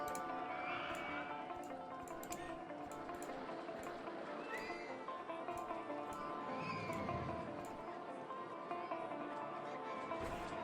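Horse whinnies ring out repeatedly in the Roller Coaster Tycoon game, layered over steady music and ambient park noise, with faint clip-clop in the background.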